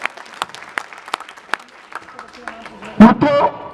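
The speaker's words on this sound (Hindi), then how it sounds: "इस बच्चे को एक बार जोरदार तालियों के साथ आशीर्वाद अपना दीजिए।" A crowd at a political event in Karawal Nagar, Delhi, bursts into loud applause near the end, following someone speaking over a microphone.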